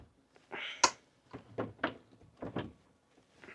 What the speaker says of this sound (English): This door does not close and lock all the way. And it, like, rattles.